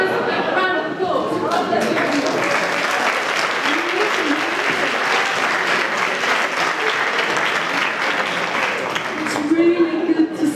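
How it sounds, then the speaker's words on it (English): A crowd of people at a talk on youth work gives a round of applause, with dense, steady clapping filling the room for about ten seconds, mixed with faint chatter and a brief voice near the end. "Can you give those a round of applause?"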